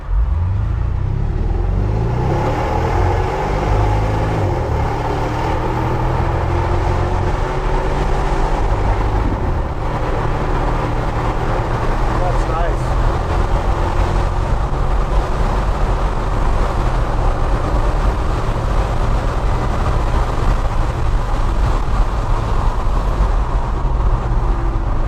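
A Porsche Cayenne engine accelerates on the road, a steady low rumble and drone with rising tone, loud and continuous under road noise throughout.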